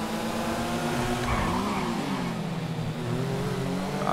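A Honda Hornet motorcycle accelerating in the video game GTA V, engine droning loud and continuous with rising and falling pitch as it revs.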